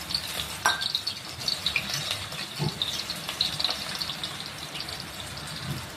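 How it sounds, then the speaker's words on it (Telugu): Onions fry in oil in a kadai, giving a continuous soft hiss and crackle with occasional faint stirring knocks, steady and close throughout. "బాండీ పెట్టుకొని దాంట్లో ఆయిల్ వేసుకొని ఆనియన్స్ వేసి అవి కొంచెం ఫ్రై అయినాక"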